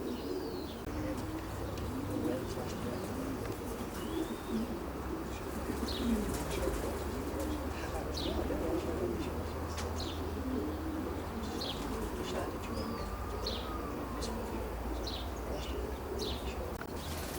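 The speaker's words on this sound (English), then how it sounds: "Lovely looking pigeon, isn't he? Very strong cock." Racing pigeons coo softly at a long-distance racer's loft in Carlisle, a steady low murmur that runs throughout, with scattered chirps from other birds and faint insect buzzing over it.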